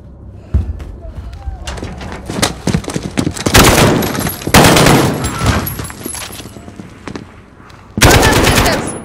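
Gunfire in the Call of Duty Modern Warfare 2019 video game during a prison escape: loud, close bursts of rapid machine-gun fire with sharp single shots between them, separated by brief lulls.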